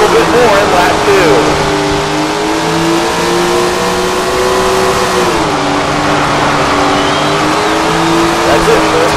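Sprint car engine roaring at sustained high revs through a qualifying lap in the racing game Tony Stewart Sprint Car Racing, loud and continuous with pitch rising and dipping as the car works the track.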